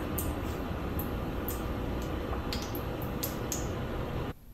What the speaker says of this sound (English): wait until the butter is really sizzling